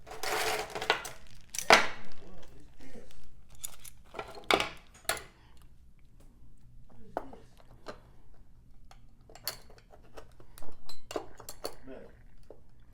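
Scattered metallic clinks and clatters of Walmart cutlery set pieces being handled and set down, louder at first, then lighter, intermittent taps.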